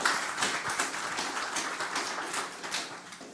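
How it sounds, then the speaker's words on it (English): Conference audience at an energy security session applauding panelists, a dense continuous patter of many hands clapping at moderate volume, fading slightly toward the end. "Let's give our panelists a round of applause."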